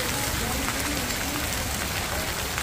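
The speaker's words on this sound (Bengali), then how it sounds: "আকাশের অবস্থা তেমন ভালো না ঘুরে ঘুরে বৃষ্টি পড়তেছে" Rain falling outdoors on a summer trip in Korea, a steady, dense hiss of drops on surfaces that fills the whole short stretch without a break.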